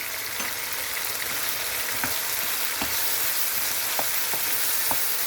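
Thin slices of boneless meat fry in a pan, a steady close sizzle running the whole time with occasional sharp stirring scrapes at irregular intervals.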